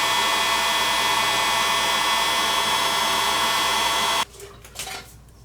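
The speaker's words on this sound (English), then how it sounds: "you can try a little bit of heat with a heat gun" A heat gun blows hot air onto the body of a quarter-scale RC shock, a loud, steady airy roar that runs about four seconds and then cuts off, leaving faint handling noises.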